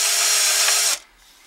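A hand drill plunged down in a drill stand, drilling into a pinning tray, gives a loud, steady high whine for about a second before cutting off sharply and leaving faint room noise.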